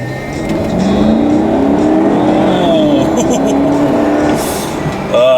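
A Holden Commodore SSV VF V8 engine revs loudly and close, with rising and falling engine tones and a burst at the end, while a voice talks underneath.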